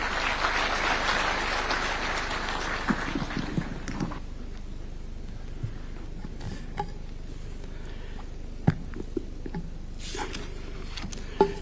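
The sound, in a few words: audience applause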